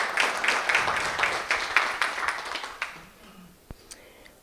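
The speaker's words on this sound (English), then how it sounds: "Let's clap hands for her." Audience applause at a technology seminar in Eswatini, a dense wash of clapping hands for about three seconds that then thins out and fades, leaving a few scattered claps in a quieter room.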